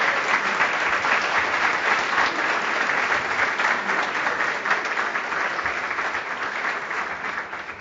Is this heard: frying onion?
no